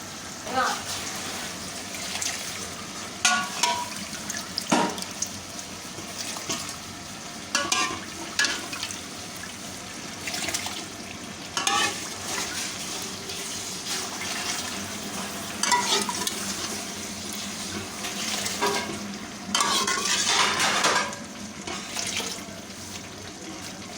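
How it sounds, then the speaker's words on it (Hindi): Beef mince stock is poured into a large pot of rice for pulao and stirred, with liquid splashing, wet churning and soft sizzling, while a person talks over the cooking. "इसमें हम अपनी यखनी जो है वो शामिल करेंगे।"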